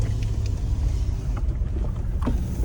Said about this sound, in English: We're driving on the prairie.